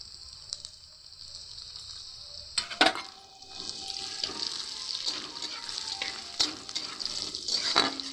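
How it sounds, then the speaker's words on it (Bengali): Chopped garlic and onions fry together in a pan, a continuous hiss broken by several scraping stirs and clanks that grow busier as the sizzle intensifies. "রসুনটাও পেঁয়াজের সাথে ভালো করেই ভাজা ভাজা করে নেব"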